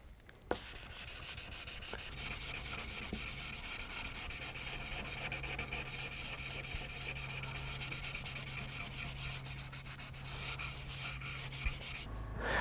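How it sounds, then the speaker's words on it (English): Dry sanding of a guitar's clear coat with 800 grit sandpaper produces a steady, continuous rubbing scratch, close and even throughout, with a low hum beneath and no talking. "the 800 grit level sanding is now finished"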